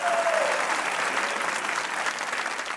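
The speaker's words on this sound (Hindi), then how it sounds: "जिन जिन लोगों को इस चीज की जरूरत है तालियां बजाएं।" Studio audience applause at a Pakistani comedy talk show, dense steady clapping throughout at even loudness, with a brief voice tone at the very start.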